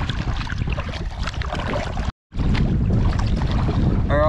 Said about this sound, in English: the wind has picked up quite a bit now